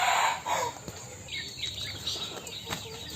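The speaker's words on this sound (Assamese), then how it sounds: "ইয়াত মোৰ আৰু মুৰ্গী আছে" Golden and local chickens kept penned in a yard, clucking and calling in short, scattered bursts over a steady noisy background, fairly close.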